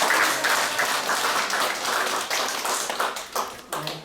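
An audience claps after a lecture on Chinese characters and idioms, a dense burst of applause that starts strong and gradually thins into scattered claps over about four seconds.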